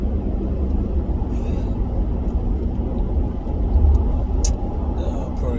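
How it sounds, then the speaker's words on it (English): Car driving on a commute to work, a steady low road rumble and engine drone from inside the cabin that stays even throughout with no talk. "driving to work"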